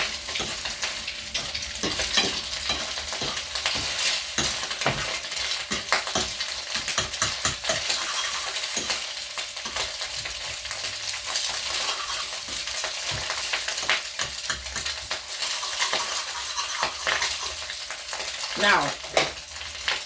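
Scrambled eggs for a breakfast sandwich fry in a pan with a continuous close sizzle, broken by repeated scraping and clinking of a utensil stirring, and a voice says a word briefly.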